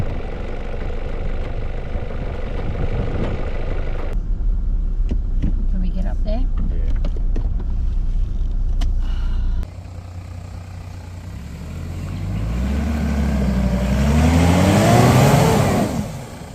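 A 4x4 engine revs hard through a water crossing, rising in bursts with splashing under it, alongside in-cabin speech and a quieter idling stretch midway.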